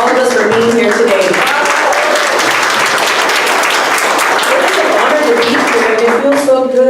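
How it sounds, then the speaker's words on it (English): A crowd at a rally of women protesting family separations gives itself a sustained round of applause, dense and loud, while someone speaks over the clapping at the start and end. "Let's give ourselves a round of applause for all of us for being here today."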